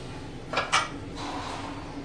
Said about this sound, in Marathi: आता मी कुकरचं झाकण लावून घेते